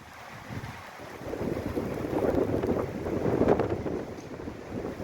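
Strong storm wind with sleet roars and buffets the microphone in a steady low rumble with rising gusts, no voices.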